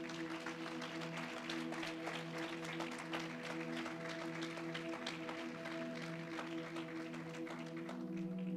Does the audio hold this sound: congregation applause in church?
yes